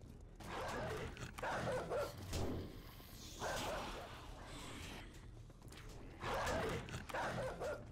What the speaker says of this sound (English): How many dogs are there?